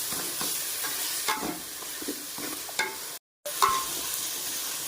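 Masala sautéing in a pan for a chicken curry, a low, steady sizzle with scattered stirring scrapes and a brief clink, interrupted by a moment of dead silence near the end.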